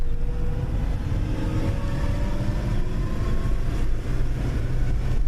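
A 1999 Mercedes E320 engine holding about 2,500 RPM while stuck in first gear at roughly 15 mph, a steady droning hum with slowly rising tonal whine over constant road and cabin rumble.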